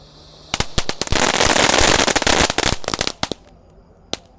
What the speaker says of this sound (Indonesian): air mancur Onyx Fountain ukuran 4 inci